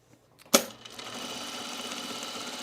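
A sewing machine starts with a sharp mechanical clack, then runs steadily through fabric with a continuous whirring hum, close and moderately quiet.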